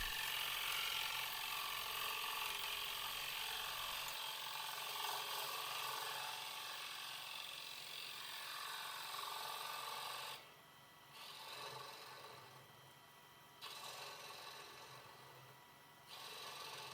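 A wood lathe cuts slowly into a spinning offset bowl with a continuous scraping, rasping whir. The cutting noise eases briefly a few times, and no one speaks.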